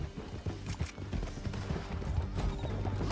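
Horses gallop down a canyon in Red Dead Redemption 2, a steady rapid clatter of hooves with mechanical rattling layered in, heard fairly close and without talk.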